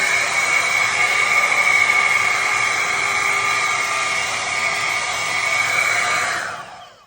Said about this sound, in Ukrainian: можна користуватись просто як звичайним феном